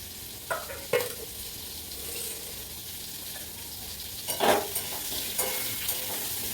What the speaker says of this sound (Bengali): আলু পটল ভাজা হয়ে গেছে